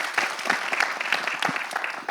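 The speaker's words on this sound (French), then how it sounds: "On peut applaudir." Applause from a forum audience in a hall, a steady wash of clapping with a few sharper individual claps standing out, fairly close and continuous throughout.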